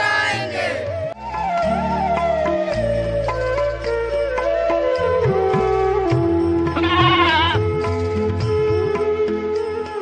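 Puppet show goat bleating in a Gandhi-themed Hindi performance, heard as repeated bleats over a busy, loud musical backing throughout.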